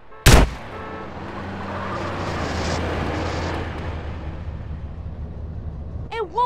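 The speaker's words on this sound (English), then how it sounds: "Help! I'm getting shot at!" Gunfire in GTA San Andreas opens with one sharp, loud shot, followed by a long rumbling roar that swells and fades away. A short whistling tone comes near the end.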